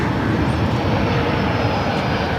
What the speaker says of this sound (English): That plane arrived from Tampa.